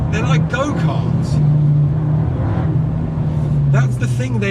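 An Abarth 695 70th Anniversario hatchback brakes hard and then accelerates out of a corner, its engine note rising and falling close by, with someone talking over the drive.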